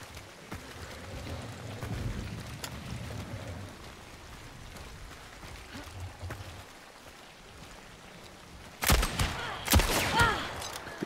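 Shotgun fire in a video game: after a stretch of quiet ambient game noise, two loud, sharp blasts ring out close together near the end, each leaving a brief crackling tail.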